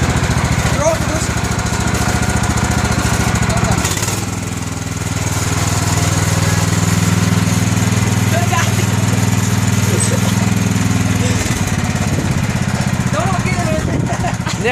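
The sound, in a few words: lawn tractor engine running while being parked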